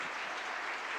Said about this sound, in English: Let's give a round of applause for Darren.